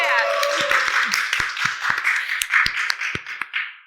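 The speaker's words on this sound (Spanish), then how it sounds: "Lancen su grito, por favor, aplaudan lo que sea." A small podcast production crew claps and cheers in a close room, with scattered sharp individual claps under a continuous wash of whooping voices that taper off toward the end.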